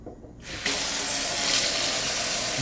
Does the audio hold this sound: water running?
yes